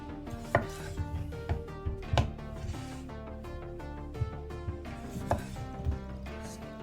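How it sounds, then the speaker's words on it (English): A knife chops farmer's market potatoes on a cutting board, sharp irregular thunks spaced about half a second apart, close and clear, with no talking over the cuts. "start by cutting our taters"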